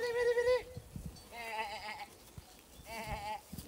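Goats on a goat cheese farm bleat in three separate calls, each a wavering, quavering cry with a pause between, heard fairly close with no talking.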